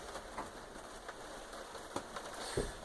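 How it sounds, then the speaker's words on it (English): Faint, steady patter of rain falling on an anchored sailboat, with scattered soft drops and a low distant rumble beneath. "The rain is still here."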